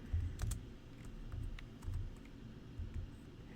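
Fingers type on a computer keyboard, a quick burst of light key clicks followed by several scattered taps, close and fairly quiet, with no voices.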